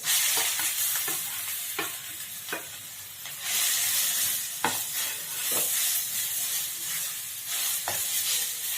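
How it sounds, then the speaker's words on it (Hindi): Grated bottle gourd fries in hot ghee in a pan for a Navratri halwa, giving a steady loud sizzle broken by sharp stirring scrapes and clicks of a spoon; no one speaks. "घीओ में घी देखियो गरम भऽ गेल, ई दै छियै, देखियो लागल। आब एहिमे दऽ कऽ भूजै छियै।"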